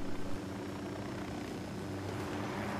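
A helicopter in Ghost Recon Wildlands gives off a steady, dense rotor and engine roar, close and constant, with no talk over it.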